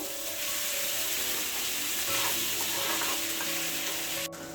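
Onion, green chili, ginger and yam masala sautéing in a pan, a dense steady sizzle with faint rubbing stir sounds, close and continuous, ending with a brief sharp knock.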